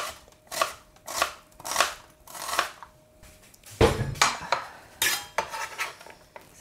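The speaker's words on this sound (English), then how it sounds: "I absolutely love red onions in my salad. I'm going to slice it." A knife slices through a red onion on a board in a series of close, crisp cuts, each a short crunchy stroke with brief pauses between, one heavier thud partway through.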